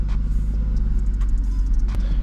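A turbocharged BMW E36 engine idling as it warms up, a steady low rumble with faint higher clicks and ticks above it, continuous and fairly close.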